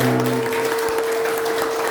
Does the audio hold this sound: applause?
yes